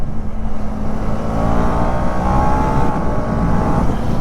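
A motorcycle engine revs steadily and loud up close while the rider shifts down through the gears without using the clutch, a continuous drone with slight rises in pitch and no talk over it.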